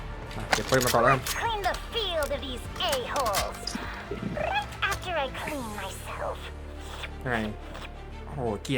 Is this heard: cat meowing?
yes